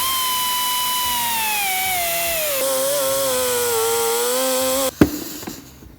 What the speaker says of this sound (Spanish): yo voy a hacer el recorte con una sierra circular